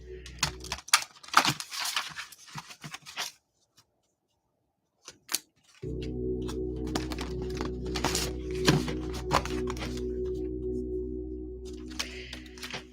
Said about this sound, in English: I'm going to start shuffling our card of the day